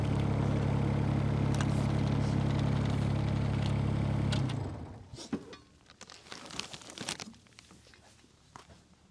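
A Groundhog KH25D-2 mini-excavator engine drones loud and steady for about four seconds, then drops away, leaving crunching and scraping as the blade works frozen ground.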